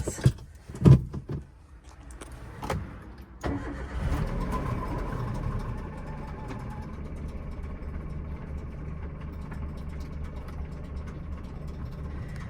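A two-wheeler with a broken belt is cranked and catches after a few seconds, then settles into a steady mid-pitched idle that runs to the end, close and moderately loud.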